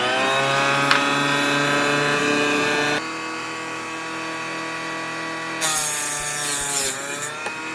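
Steady rasping saw strokes grinding through .223/5.56 brass cartridge cases, loud and continuous, with a brief pause and a brighter, harsher cutting stretch near the end.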